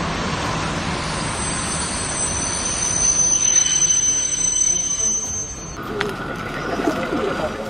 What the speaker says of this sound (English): this train in Moss, Norway still ended up facing a stranded vehicle on the tracks